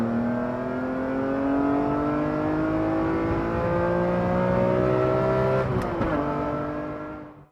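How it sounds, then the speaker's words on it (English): A BMW E46 M3 with a CSL airbox revs high, its engine note climbing steadily for several seconds, then cutting off and fading quickly; loud and close, with no talking. "That coupled with the CSL airbox, yeah, let's see what that sounds like up high."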